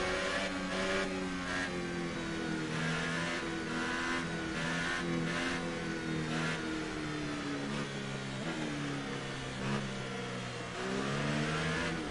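Formula 1 race car engines in the F1 2018 video game at a safety-car restart, a dense, continuous high-pitched whine with rising and falling revs as the cars accelerate together, loud and steady throughout.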